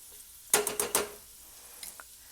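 Shrimp with its marinade tipped into a pan of softened onions, garlic and ginger for shrimp fried rice, giving a sudden burst of sizzling with a few quick scrapes, then settling to a quieter fry with a faint clink.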